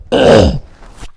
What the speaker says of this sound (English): Excuse me, I'm just going to cough.